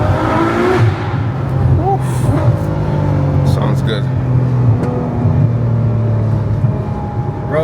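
A Ferrari 812 Superfast is driven with its engine droning and rising in pitch through the gears, loud and close from inside the car, while people talk over it.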